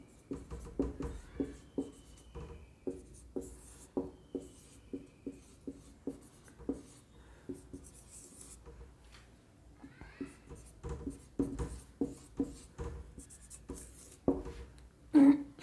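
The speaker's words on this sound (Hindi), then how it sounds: "मैं पहले लिख लेती हूँ।" Numbers written on a board during a significant-figures class: rapid, rhythmic scratchy strokes close by, in steady runs with brief pauses, over faint room hum.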